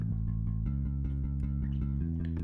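Dry, unprocessed bass line without EQ or cabinet, playing a steady run of low repeated notes, loud and close, alone.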